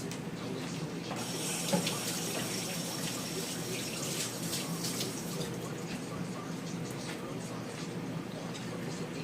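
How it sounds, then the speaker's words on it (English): A kitchen tap runs in a steady splashing stream while hands are rinsed under it, fairly faint and continuous. "I'll rinse my hands."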